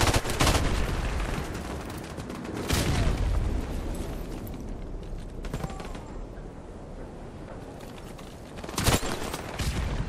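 Explosions and bursts of gunfire in a first-person shooter video game, several heavy booms and rattling volleys spread across the stretch, loud and close with echoing tails in between.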